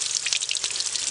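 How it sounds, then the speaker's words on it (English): Water pours over the soil of a freshly repotted black pine bonsai, a close, steady splashing and pattering shower with a few sharper drips, running continuously without speech. "Okay, let's pour water."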